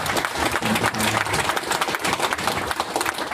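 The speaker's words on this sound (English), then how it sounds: "give a round of applause" An audience at a Product Austin meetup claps for an introduced guest speaker from HubSpot, a full, dense burst of applause filling the room for a few seconds with no speech over it.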